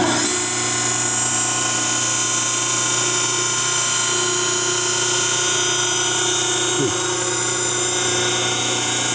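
A Reid surface grinder runs alongside a loud phase converter, producing a constant close mechanical hum with a high-pitched singing whine layered on top, steady and unbroken throughout.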